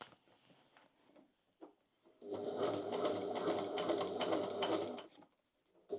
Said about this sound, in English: I'm just sewing around the inside.